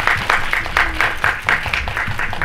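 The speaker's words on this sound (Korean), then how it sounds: "나가실 때도 박수 한번 쳐드릴까요?" Loud, steady applause from a cinema audience at a post-screening Q&A, with many hands clapping continuously throughout.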